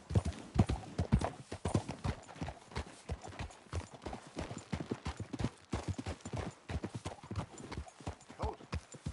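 A horse galloping in the video game Red Dead Redemption 2, a rapid, close, steady run of hoofbeats lasting several seconds, with a faint whinny and game ambience underneath.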